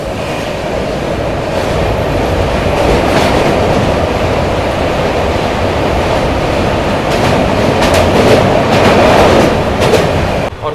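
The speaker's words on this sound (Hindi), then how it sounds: "सरायघाट ब्रिज पे एंटर कर रही है अपनी ट्रेन, जो कि रेल कम रोड ब्रिज है" A train crosses the Saraighat rail-cum-road bridge over the Brahmaputra, a loud steady roar of wheels and carriages with rhythmic clickety-clack throughout, heard close from on board without talking.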